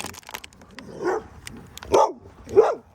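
A dog barks a few times, in short separate bursts with pauses between, fairly close and moderately loud.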